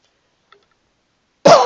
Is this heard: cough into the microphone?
yes